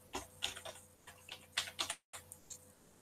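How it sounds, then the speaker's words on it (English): Keys clatter on a laptop or desktop computer keyboard as a password is typed, a quick run of close, light clicks with one brief pause, and no talking. "So I am typing a password here."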